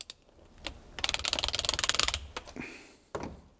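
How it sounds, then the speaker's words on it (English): Bolts on the transmission valve body of a supercharged V8 Alpina B7 are tightened to 6 Nm with a wrench. Bursts of quick, close ratcheting clicks are separated by a few sharper isolated clacks. "Torque time, there is no specific sequence in which order you torque the bolts"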